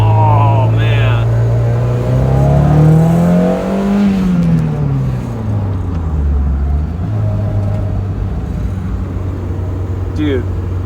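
A car on the Laguna Seca track accelerates hard in first gear, its engine revving loudly and climbing in pitch before settling into a sustained drone, heard up close from inside with some excited talk.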